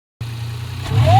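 A Nissan Micra DIG-S with a supercharged 1.2 litre engine starts up and idles with a steady low hum, then begins to rev, the pitch rising near the end; close and fairly loud, with no talk.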